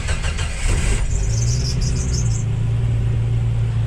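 A Jeep engine cranks with quick rhythmic churning for about a second, catches, and settles into a loud, close, rumbling idle.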